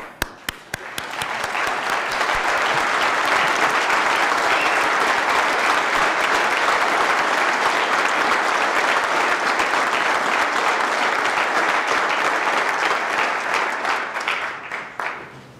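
A large audience at the Wyoming State of the State address applauds steadily for the 2013 Wyoming Teacher of the Year, with sustained, dense clapping that swells quickly and holds for about fifteen seconds before tapering off.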